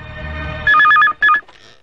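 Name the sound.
telephone ringing when calling hotel, movie scene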